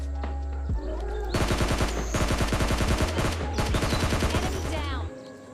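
In PUBG Mobile Lite, a loud automatic weapon fires rapid sustained bursts across several seconds with brief pauses, close and dominant, ending abruptly.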